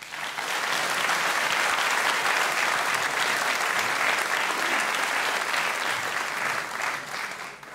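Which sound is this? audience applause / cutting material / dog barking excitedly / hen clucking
audience applause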